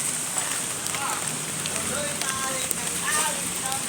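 Steady rain hisses down on an outdoor work site, forming a constant broadband wash with faint voices talking underneath.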